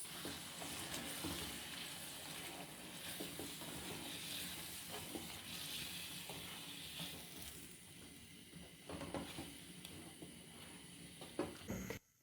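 Korma ingredients stirred and mixed in a pot, a continuous close sizzle with frequent scraping stirs, ending in a sharp knock before cutting off.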